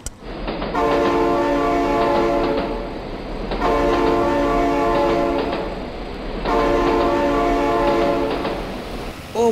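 A train in the BeamNG.drive video game sounds its horn in three long, loud blasts separated by short gaps, over a steady low rumble of rolling wagons.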